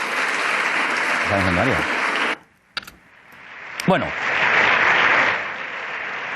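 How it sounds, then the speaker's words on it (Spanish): Members of the Socialist parliamentary group applaud in the Spanish parliament during the 2018 censure motion against Mariano Rajoy, loud broad clapping that breaks off, then swells back with a brief spoken word between. "obtiene el aplauso del Grupo Parlamentario Socialista"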